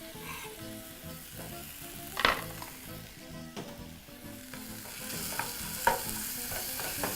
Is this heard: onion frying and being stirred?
yes